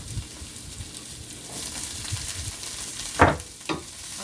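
Onion and celery sauté in a hot pan while making chop suey, giving a steady soft sizzle throughout with a couple of sharper stirring or scraping clatters near the end.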